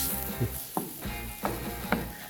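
Vegetables stir-frying in a pan with broth, with tomato added for a Spanish dish, give a steady close sizzle broken by three or four louder scraping stirs.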